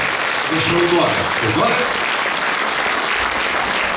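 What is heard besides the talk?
audience applauding a children's trio performance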